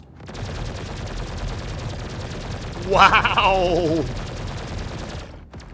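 Six size 3 Panzer cannons on an Anvil F7A Hornet Mark II in Star Citizen, heard from outside the ship as a rapid, steady stream of loud rattling shots, with a voice exclaiming partway through.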